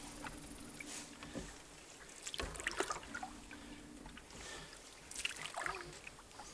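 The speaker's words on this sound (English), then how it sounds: "this is going to be a real short paddle on High Lake" A canoe paddles across High Lake in the Sylvania Wilderness, with quiet, irregular paddle strokes and water splashes and trickles against the hull under a soft background, faint and without talking.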